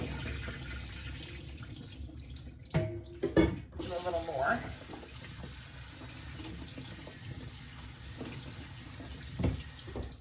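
Tap water runs into a kitchen sink while food is rinsed during crowd cooking for a plant-based curry, a steady low splashing with a few louder clatters and bursts, and a voice speaks briefly.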